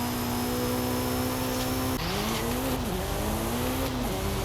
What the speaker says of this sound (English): the exhaust sounds so much better, like even at like high RPMs